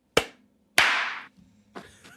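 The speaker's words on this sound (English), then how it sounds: "Okay, let's clap." Sharp hand claps made to sync a recording: a single crisp clap, then a louder clap with a ringing decay, then a softer third clap, all close and in a quiet room.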